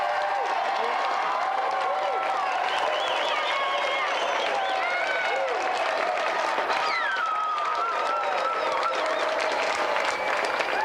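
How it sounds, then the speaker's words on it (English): A game-show studio audience applauds three volunteers with continuous loud clapping and some cheering, while a presenter's voice carries over the top. "let's have another round of applause for our three volunteers, Jack, Angela and Rashpal"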